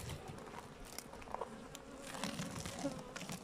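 Honey bees buzz steadily around an open hive during a beekeeping inspection ahead of winter, a dense, even hum close by with no talk.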